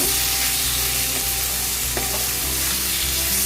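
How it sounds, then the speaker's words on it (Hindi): Chicken for yakhni pulao hisses loudly in a hot pot as it is stirred, a close, unbroken sizzle with occasional spoon scrapes against the metal, and no one speaking. "मेरा जो चिकन मैंने लिया था वो मैं डाल दूंगी, और इसको मैं एक अच्छा मिक्स दे दूंगी।"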